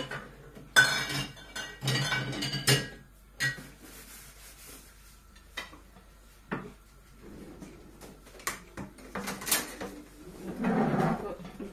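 In a home kitchen, utensils, dishes and pots are put away with a run of clinks, clatters and knocks, some sharp metallic or glassy, others dull thumps like drawers or cupboard doors, spread irregularly with pauses between them.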